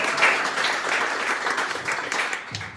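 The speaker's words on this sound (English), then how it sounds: "big applause for Michael Gorel, Israeli angel investor" An audience at an elevator pitching event applauds a guest, an Israeli angel investor, with a short, dense burst of clapping that holds steady before fading.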